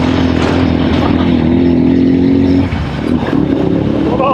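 Engine of a motorcycle fitted with a small sidecar bench on Providencia, Colombia, running steadily loud and close with a brief dip in revs partway through, no talking.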